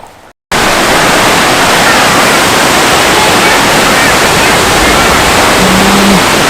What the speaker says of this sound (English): So it's called Duden Waterfalls.